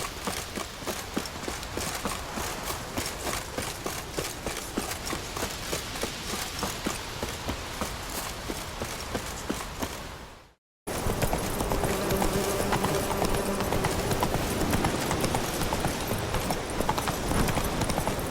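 A horse gallops in The Witcher 3: Wild Hunt, fast rhythmic hoofbeats pounding steadily and close, broken by a brief silence before the running resumes at the same pace.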